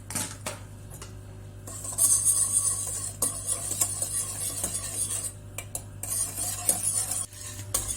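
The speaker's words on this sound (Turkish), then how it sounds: "sürekli karıştırarak pişiriyoruz" Steady stirring of chocolate sauce in a metal pot, a utensil scraping and clinking against metal with a soft sizzle underneath as it comes to a boil, continuous and close, no voices.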